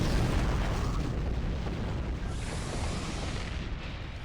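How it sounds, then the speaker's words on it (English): Ships exploding during a space battle in Star Trek Online, a dense, continuous roar of overlapping blasts that stays loud and steady throughout. "Everything is exploding."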